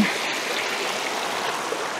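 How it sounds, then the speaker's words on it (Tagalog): River water at a camping spot in Mayantoc flowing and rushing, a steady broadband hiss close and continuous with no voices. "Tapos yung lagaslas ng ilog. Yung agos, ang ganda."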